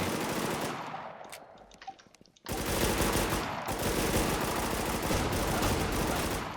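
Gunfire in the zombie shooter Warz JapanZ: sparse sharp shots early, then a sudden loud, sustained machine-gun barrage with dense rapid rattling that holds to the end.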